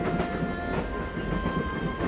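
Steady train ride ambience from the video game Broken Sword: Shadow of the Templars, a continuous rumbling rail carriage drone with faint rhythmic rattling, even and moderately loud throughout with no voices.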